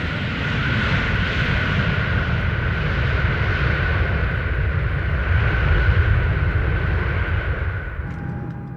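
Boeing airplane engines drone loudly and steadily during a flight test, a broad roar with a sustained whine that holds throughout and eases slightly at the end, no talking.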